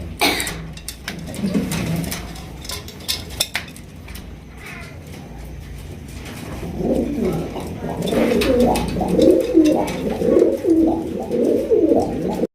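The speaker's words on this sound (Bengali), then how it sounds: "এখানে রয়েছে আরো এক জোড়া কালদম কবুতর দেখতেই পাচ্ছেন" A pair of Kaldom pigeons coo close by, soft scattered calls at first that swell into a louder run of repeated throaty coos in the second half, with faint clinks in the background.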